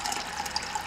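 Cold water poured into a honey drink, a short continuous trickling stream with light bubbling, close and steady, with no voices.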